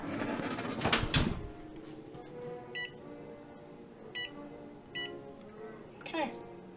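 A kitchen timer being set while rice cooks, giving four short, bright electronic beeps spaced across the clip over a busy background of music and household noise.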